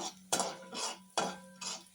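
A spoon scrapes and taps in a pan while Malvani masala, turmeric, coriander and cumin powders are mixed for a Malvani clam curry, giving four sharp metallic strokes in a quick, uneven rhythm, close and clear.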